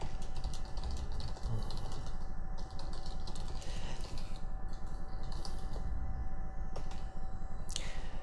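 Computer keyboard typing, a steady stream of quick key clicks close up over a constant background hum, with a few sharper taps standing out.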